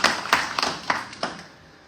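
An audience at a Mashujaa Day celebration in Paris breaks into brief clapping, a few scattered sharp claps that quickly fade into a reverberant room.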